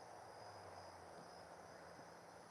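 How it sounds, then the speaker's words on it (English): Crickets trilling on a calm night outdoors, a faint steady high chirring that carries on unbroken, distant and quiet with no voices over it. "You hear the calm, you hear the crickets, the calmness of the air."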